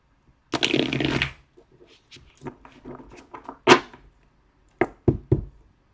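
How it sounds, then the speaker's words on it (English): A riffle of cards followed by scattered taps and soft thumps as the deck is handled, then a few sharp shuffling bursts near the end. "Last 2 shuffles."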